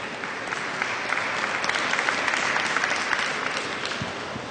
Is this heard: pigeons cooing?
no